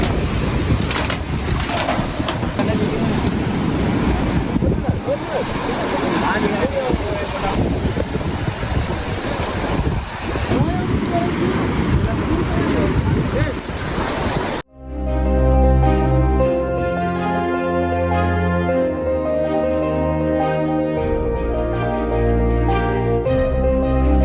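Rough sea and gusting wind lash the coast at Rameswaram during Cyclone Ditwah, a loud, continuous roar of surf and wind noise that runs for about fourteen seconds before music takes over.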